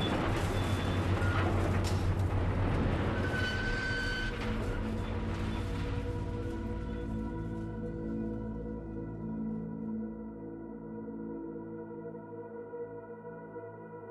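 A car shredder tears through a crushed automobile with a heavy grinding, crashing roar, then settles into a lower droning mechanical hum that fades gradually.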